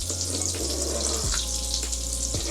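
A lump of butter melts in a frying pan with a constant close sizzle and bubbling hiss, a few low thuds breaking in now and then.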